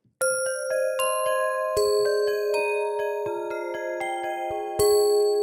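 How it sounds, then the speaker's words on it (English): Crystal singing bowls layered with bright sampled bells from a sound library ring out in a sustained, shimmering sequence of overlapping tones, each new strike blooming over the decaying ones, loud and close with no voices. "Turn down the bells."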